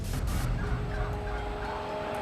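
A flock of about twenty wild turkeys gobbling around a dead cat, their rapid, overlapping gobbles forming a continuous, noisy chorus heard close and loud outdoors, with no talking.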